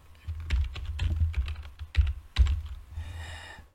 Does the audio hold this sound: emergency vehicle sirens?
no